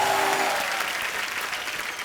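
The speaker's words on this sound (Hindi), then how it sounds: "एक बार अक्षय पाजी और रितेश के लिए जोरदार तालियां।" A studio audience at a Hindi comedy talk show breaks into loud, dense applause that holds strong and close for the whole short moment.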